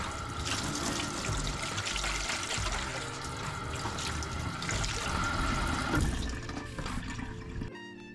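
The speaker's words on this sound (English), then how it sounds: "Remove sliminess and dirt of mantles by rubbing it with salt. Wash them cleanly." Scallop mantles being rinsed and rubbed clean under running water in a kitchen sink, a steady close splashing and gushing flow that continues throughout before cutting off at the end.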